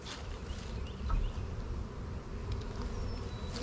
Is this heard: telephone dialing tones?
no